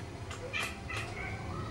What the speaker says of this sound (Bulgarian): Мякна, котката мякна.